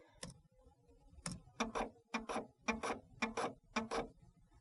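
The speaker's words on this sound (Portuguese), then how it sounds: "E ele vai imprimir na impressora e vai gerar o ponto .ret." A desktop printer prints a text document, giving a run of about seven sharp mechanical clatters at a steady rhythm, each a short burst of ratcheting print-head and paper-feed noise with quiet gaps between.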